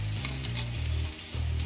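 Pork rib pieces fry in hot oil in a paella pan, a steady close sizzle with soft crackles and a low hum beneath, continuous with no talk.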